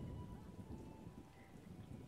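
Heavy downpour in The Witcher video game: dense, steady hiss of rain with a low rumbling undertone, soft and continuous with no voices.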